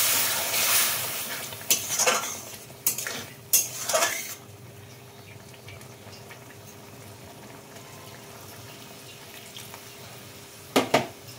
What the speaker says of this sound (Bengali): এরপরে ঢাকা দিয়ে দিচ্ছি।